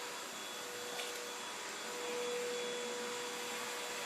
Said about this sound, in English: Gonna vacuum under the bed?